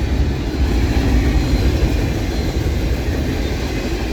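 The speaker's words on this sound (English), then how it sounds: "Oh, that's the short train." A Norfolk Southern freight train hauling flat cars rolls steadily past close by, a loud continuous rumble with faint rail clatter throughout.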